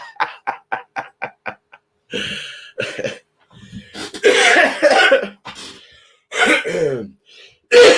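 A man with a cold lets out a run of loud, close coughs, several short rapid bursts followed by heavier hacking and throat clearing, with brief pauses between fits.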